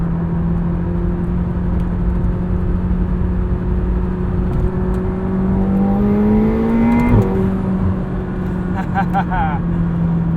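A 2021 McLaren 720S Coupe engine pulls hard under full throttle, a loud steady roar climbing in pitch for several seconds, then a sharp shift and the drone continuing, heard from inside the car.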